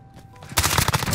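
Rapid bursts of automatic gunfire in Call of Duty Modern Warfare, during the Haunting of Verdansk Halloween event, erupt loud and close after a quieter lead-in, with sharp overlapping shots continuing to the end.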